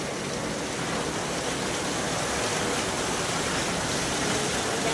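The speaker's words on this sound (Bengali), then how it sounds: "আমি আমার ব্যালকনিতে দাঁড়িয়ে দাঁড়িয়ে বৃষ্টি দেখছি" Steady rain falls in Kerala, heard from a balcony as an even, broadband hiss with no breaks, moderately loud and unaccompanied by voices.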